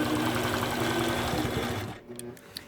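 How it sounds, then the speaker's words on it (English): Sewing machine quilting stitches on a baby quilt, a fast steady mechanical whirr with rhythmic needle clatter, close and loud, stopping abruptly near the end before a few light clicks. "So I need to stitch up this side here."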